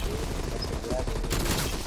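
Gunfire rattles out in Call of Duty Black Ops Cold War Zombies as a dense, continuous burst of rapid shots. It stays loud and steady throughout.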